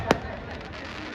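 A single sharp firecracker bang from the large crackers set off at a Dussehra Ravan effigy burning in Ajmer, one brief loud burst followed by steady crowd noise and a public-address voice.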